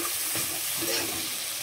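Masala spice paste frying in oil for a village-style Bengali echor (young jackfruit) kalia, a steady close sizzle with soft scraping and stirring throughout.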